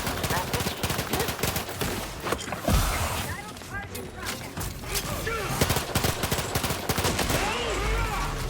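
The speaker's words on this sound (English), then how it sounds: "Riddle me with bullets all you like." Rapid bursts of gunfire from a firefight in Outer Worlds 2 on hard mode, dense overlapping shots crackling loudly throughout with a voice speaking in between.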